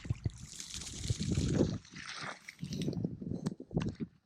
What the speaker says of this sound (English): I've got so much water coming down the hill